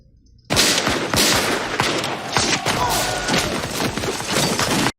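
A battlefield scene from the 1989 Civil War film Glory erupts into loud, sustained musket fire after a short quiet lead-in, with dense overlapping shots and booming reports continuing throughout.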